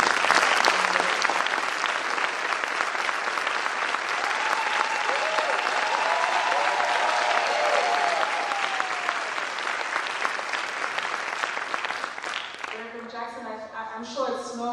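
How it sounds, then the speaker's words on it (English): A large crowd at a memorial send-off applauds loudly and continuously to welcome Jesse Jackson, with a wavering ululation rising above the clapping midway before the applause fades and a voice starts speaking. "the ululations that you're hearing within the crowd"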